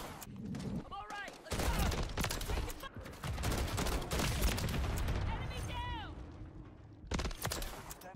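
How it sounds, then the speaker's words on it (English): Rapid automatic gunfire from a sentry gun in Call of Duty MW3 comes in long, dense bursts with short pauses between them, loud and close, mixed with chirping electronic game effects. "Is that a sentry gun?"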